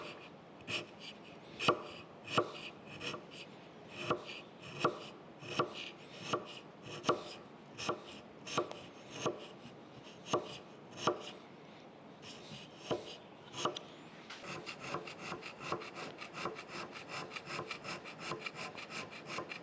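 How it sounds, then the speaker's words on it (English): Hand scraping on a Monarch 10EE lathe's cross slide dovetail: a steady series of sharp, evenly spaced scrape strokes close up, shifting to quicker, lighter strokes toward the end, with no talk. "So we're ready to come in here and once again, scrape across here."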